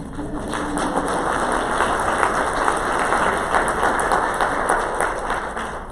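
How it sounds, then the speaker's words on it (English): Sustained applause from an audience at a conference opening session, steady and dense clapping that fills the room from start to finish without a break. "Another round of applause, please."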